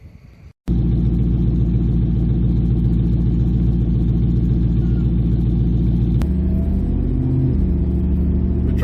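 A loud, steady engine rumble from inside a moving 1972 Triumph Stag Mark I automatic, with a brief shift in tone near the end as the revs change.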